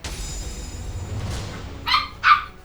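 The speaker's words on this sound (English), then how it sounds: "Fucking dogs." Two short dog barks ring out a little apart, with indoor hum underneath; the rest of the moment holds only low background noise.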